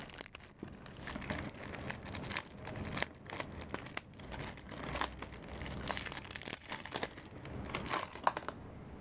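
Plastic wrapping being torn and peeled off a Magic: The Gathering Jace vs Vraska Duel Deck box, with irregular crinkles, crackles and rustling bursts, close and quiet, no talking.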